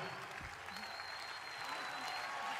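Crowd applause in a cold open-air plaza at the Cosquín 2022 festival, after a recital by Soledad: a soft, continuous sheet of distant clapping with faint voices and a thin tone running beneath it.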